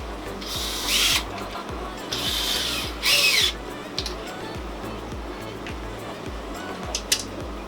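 A power drill with a Phillips head bit drives the screws supplied with a Red Sea ReefDose dosing pump into its mounting bracket, in three short whirring bursts with pauses and small handling clicks between them.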